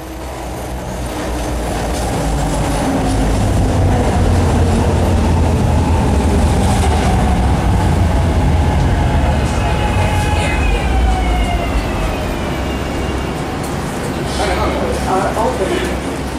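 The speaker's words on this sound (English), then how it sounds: "69th Street train making all stops." Philadelphia train to 69th Street rumbling along the rails at steady loudness, a low rolling drone with faint wheel squeal and rattling, while people talk over it throughout.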